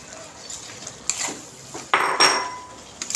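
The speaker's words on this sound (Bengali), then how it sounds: "এবার দিয়ে দিচ্ছি কেটে রাখা ইলিশ মাছগুলো" Cut hilsa fish pieces drop into a pan of cooked-down spiced masala in a village kitchen, giving a few close clattering knocks and a brief burst of sizzle.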